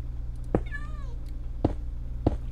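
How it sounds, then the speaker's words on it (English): A cat meowing in Minecraft: one clear, close meow with a falling pitch, heard over a steady low hum and a few soft clicks. "The cat is right around here."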